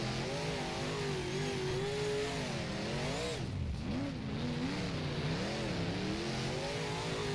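A race car engine in rFactor, driven on a fenced dirt oval, drones loud and steady, its pitch rising and falling as the revs dip through the corners and climb again on the straights.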